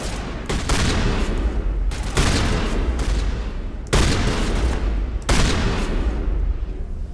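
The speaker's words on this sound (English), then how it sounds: "These shotguns feel like they fire slugs." Shotgun blasts in the Mass Effect video game: several heavy, roaring bursts of fire, each a second or two long, following each other closely and loudly.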